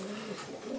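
Pigeons in a loft coo softly and steadily under a faint background murmur, low rounded calls overlapping without pause.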